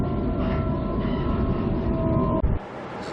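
A Sydney train runs along steadily with a low rumbling roar and a sustained motor whine, followed by a brief clunk near the end.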